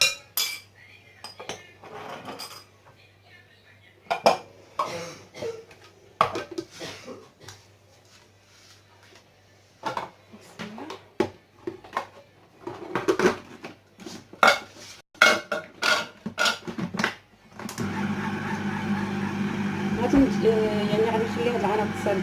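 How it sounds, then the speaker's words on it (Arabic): Nugget ingredients, including eggs, are mixed in a bowl, with scattered clinks and scrapes of utensils against the dish coming in irregular bursts and pauses, ending in steadier rustling and clatter. "كلشي هادشي كيتخلط مزيان حتى كتجانس العناصر."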